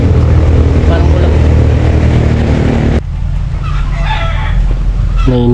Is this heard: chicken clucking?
yes